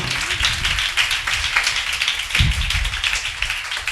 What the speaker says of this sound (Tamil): நல்லா கையை தட்டி